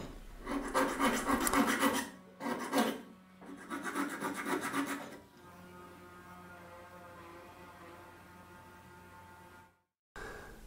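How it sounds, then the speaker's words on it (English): A Dremel grinds a metal bracket for a mini CNC lathe retrofit, done outdoors, in three close, rasping bursts followed by a low steady hum before a brief cutoff. "This process with the Dremel creates an enormous amount of grinding dust that gets everywhere,"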